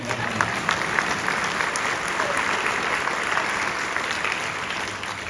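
Loud, dense audience applause at an amusement industry legends event, a full crowd clapping continuously with a faint murmur of voices underneath.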